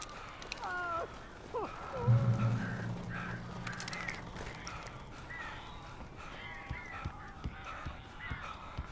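Crows caw in the Alan Wake remaster, a few harsh rasping calls close by with flapping and rustling, under a low rumbling tone and occasional thuds.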